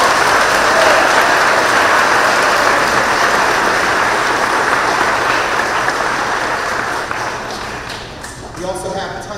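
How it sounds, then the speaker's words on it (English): A large audience applauds at a school promotion ceremony, a dense, continuous wash of clapping that holds steady for most of its length, then thins and fades near the end, with a faint murmur of voices beneath. "Let's give them a round of applause."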